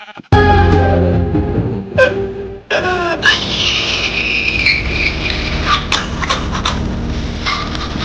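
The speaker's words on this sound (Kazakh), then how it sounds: "Қуанышымызға орай қойлар көп екен" Two nasal, synthetic-sounding Minecraft sheep bleats ring out close by, followed by a steady hiss and scattered clicks and rustles of game sounds.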